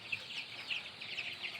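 A flock of young cockerels in a coop peeps and chirps continuously, a busy high-pitched chatter close by with no talking.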